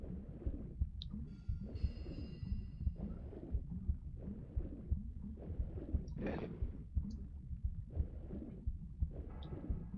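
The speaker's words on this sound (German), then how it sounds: "der Herzschlag-Sound in diesem Level" Heartbeat sound effect in a Tomb Raider 2 level, a steady low rhythmic thumping pulse running continuously at moderate loudness alongside faint gurgling ambience.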